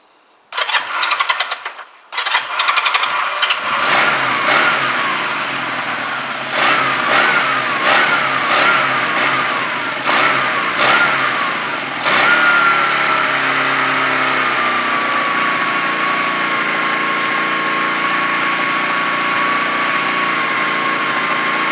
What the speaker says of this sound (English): At the moment, that is no choke, but on quite a fast idle, so I want to get it warmed up